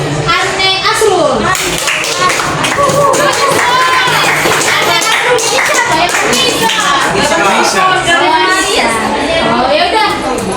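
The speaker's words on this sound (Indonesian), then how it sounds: "kita berikan dulu tepuk tangan buat Ane Asrul" Classroom applause for a student, scattered clapping from kids mixed with children's chatter and voices throughout, steady and close.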